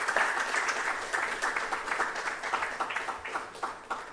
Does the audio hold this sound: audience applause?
yes